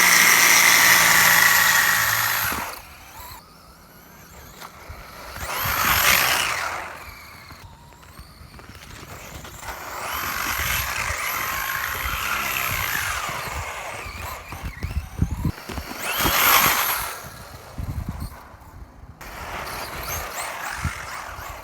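A Traxxas Slash 2WD RC car with RPM suspension arms and TQi radio system drives and drifts, its electric motor whining in loud bursts that rise and fall between quieter gaps, with gravelly tire scrub under the runs.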